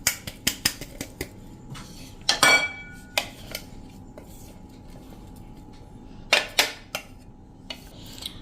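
Coarse homemade protein powder, freshly ground in a mixer jar, is tipped onto a plate, giving a string of sharp clinks and taps close by, with two busier bursts of clatter in a quiet kitchen.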